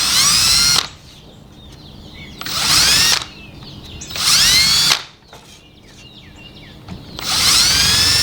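A power drill countersinks screw holes in a wooden trellis board with four loud, close whirring bursts, each winding up in pitch and then easing off, separated by quiet pauses of faint tapping and handling.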